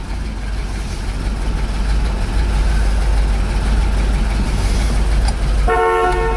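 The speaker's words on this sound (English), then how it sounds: "Horn works" A 1964 Corvette with a 365 hp engine idles with a deep steady rumble, then its horn gives one loud, close honk near the end.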